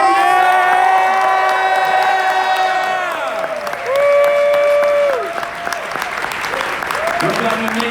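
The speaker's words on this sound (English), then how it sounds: "Can I get a big round of applause for Andrew Yang?" A crowd at an Andrew Yang town hall at Drake University in Iowa bursts into loud, sustained applause with cheers and whoops. Shouted voices rise over it, and the sound stays dense throughout.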